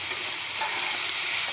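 Cauliflower and potato pieces fry in a pan, giving a loud, steady sizzle and crackle that runs without a break and with nobody talking.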